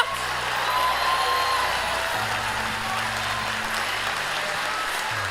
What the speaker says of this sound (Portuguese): Mistura essas palmas com glória a Deus.